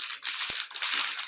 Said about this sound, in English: first flatten your plastic bag out, like mine is here